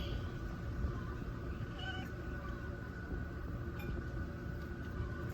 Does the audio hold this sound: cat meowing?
yes